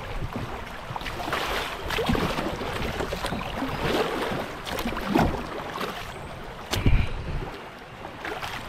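Strong, fast river current rushes and splashes around a kayak that is being turned by the flow. The water noise is broad and churning, with wind buffeting the microphone and occasional closer splashes from paddling.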